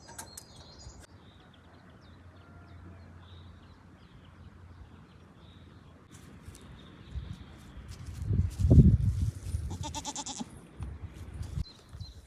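Rustling and shuffling of sheep close by before shearing, rising toward the end, with a sheep bleating once or twice amid the movement.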